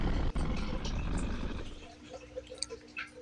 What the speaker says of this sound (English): Here's growl.